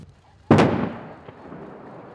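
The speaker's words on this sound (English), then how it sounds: "They plan to blow this up so they can no longer use it." Explosives detonate inside the tunnels of North Korea's nuclear test site, producing one sudden loud blast that rumbles and fades away slowly, followed by a fainter secondary thud about a second later.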